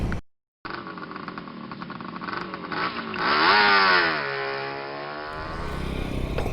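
A BMW G310 GS BS6 adventure motorcycle on the move: a steady close engine drone mixed with wind rush, the note climbing as it accelerates midway, then easing back to a steady cruise, with no talking.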